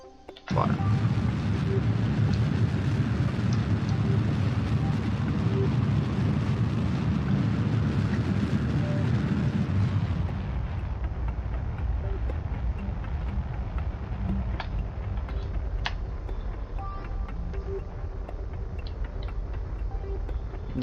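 A rocket engine burn in the Kerbal Space Program game, a loud steady broadband roar for about ten seconds that then drops to a quieter continuous rumble with faint clicks.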